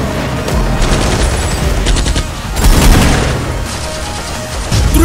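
Real firearms and live explosives on a closed-road action film shoot produce loud, dense bursts of rapid gunfire with heavy booms layered in, a continuous barrage that peaks in a big blast near the middle.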